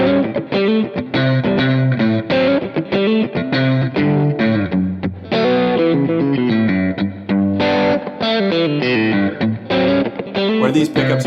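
Stratocaster electric guitar fitted with Lambertones Triple Shot pickups and a Grinder bridge, played close and clear in a rhythmic riff of chords and single notes with a slightly driven 60s-style tone.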